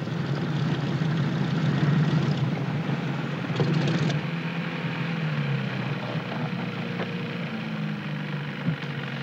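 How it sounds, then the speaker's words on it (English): A fully loaded PBY flying boat landing on water, a loud droning propeller engine roar that eases in pitch and level, with rushing water noise beneath. "Landing a fully loaded PBY is more a test of seamanship than airmanship."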